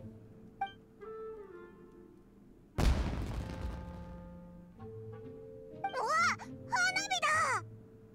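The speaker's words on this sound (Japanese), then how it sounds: "あそこで何か爆発したぞ。" A single sharp explosion bursts out in Genshin Impact, loud and close, then decays into a rumbling tail; quiet tones come before it and voices follow afterward.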